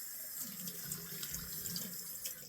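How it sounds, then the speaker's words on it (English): Cold water runs steadily from a tap into a sink while a face is splashed and wetted before shaving, a continuous close splashing with small irregular spatters. "Wet it with cold water for this."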